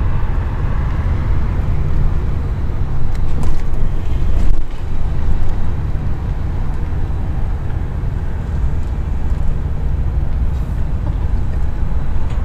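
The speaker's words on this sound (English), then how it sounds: "Got the Honda generator going." A Honda portable generator runs at a campsite, giving a steady, loud low-frequency drone with constant engine hum and no clear variation throughout.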